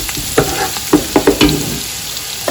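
Vegetables cook lightly in a pan, with a soft sizzle under several sharp scraping stirs clustered in the first second and a half before fading to quiet.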